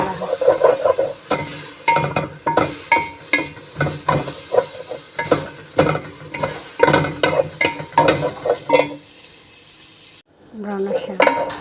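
Onions frying in a pan until brown for a fish dish, with steady sizzling under repeated rhythmic stirring and utensil scrapes against the pan, close and fairly loud, then a brief quiet gap before clattering resumes.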